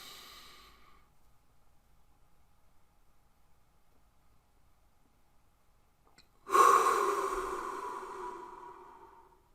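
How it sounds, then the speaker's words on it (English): Slow, controlled breathing done as a stress-relief exercise: a faint breath trails off at the start, then near-silence for several seconds during the hold, followed by a loud, close, airy exhale that gradually fades. "You're concentrating on the inhale, the hold, the exhale, the hold."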